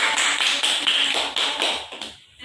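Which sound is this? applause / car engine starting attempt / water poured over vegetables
applause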